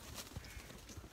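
Hooves of a small horse clip-clop on a village morning, a few faint, soft thuds spaced unevenly beneath steady background noise.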